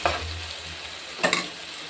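Fish curry ingredients for Andhra-style chepala pulusu are stirred in a pan, giving a steady sizzle with a couple of brief scraping strokes of a spoon against the metal.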